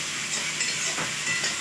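Grated papaya frying in ghee in a pan, a continuous close sizzle with soft stirring scrapes rising and falling, no voices.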